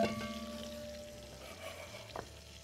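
Seasoned meat for osso buco searing in butter in a pan, a faint, steady sizzle with a short scrape or clatter near the end, no voices.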